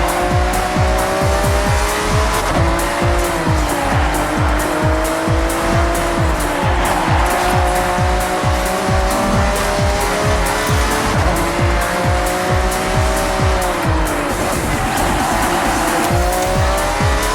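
Forza Horizon 6 car with a loud, steady engine note that rises and falls with shifting, plus tire squeal as it is thrown through corners, close and continuous with no talking.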